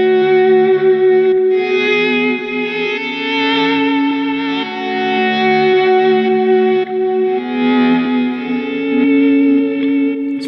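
Electric guitar with a reverse delay effect plays a worship song. Soft-attacked chords swell in and sustain with a shimmering, echoing tail, loud and steady, with a few chord changes and no talking.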